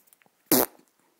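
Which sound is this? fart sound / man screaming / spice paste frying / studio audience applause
fart sound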